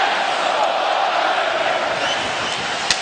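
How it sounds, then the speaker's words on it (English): Arena crowd at an NHL hockey game between the Vancouver Canucks and Edmonton Oilers, third period, roaring in a steady, loud wash of voices that holds throughout, with a brief sharp spike near the end. "The crowd wanting to roar some more."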